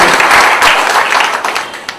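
An audience at a spiritual talk by Patriji in Talegaon Dabhade claps on cue: a short burst of dense, fairly loud applause that thins out over two seconds.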